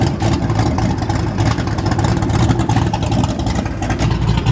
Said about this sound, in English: You guys want to hear that exhaust?